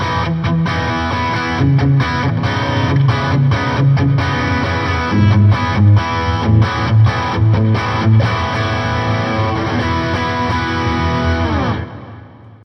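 Electric guitar through a Boss GT-1000 on its Katana input preset into a Katana 100 amp, a loud driven riff of chugging chords and short stabs played steadily for about twelve seconds before cutting off, with no talking.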